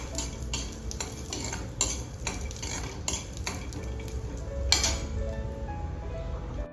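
Peanuts for thecha chutney roast in a pan while a utensil stirs them, giving repeated scraping strokes and light clinks over a faint, steady sizzle.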